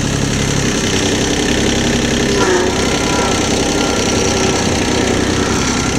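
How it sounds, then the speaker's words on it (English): A small tractor engine runs at a steady idle nearby, a loud, constant low rumble with a slight knocking texture and no pauses. "this little tractor runs good."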